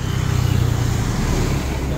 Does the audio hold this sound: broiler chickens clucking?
no